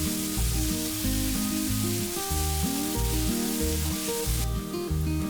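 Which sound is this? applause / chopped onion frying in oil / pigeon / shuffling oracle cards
chopped onion frying in oil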